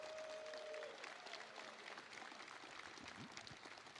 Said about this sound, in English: Everybody, a round of applause for Rich Tyrer,